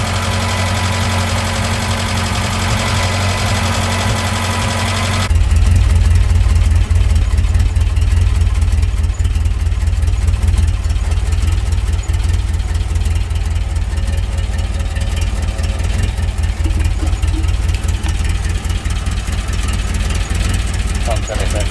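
A Talbot Express van engine runs with its new exhaust, a loud, steady low rumble that steps up in volume partway through and holds a continuous idle, with a voice talking over it.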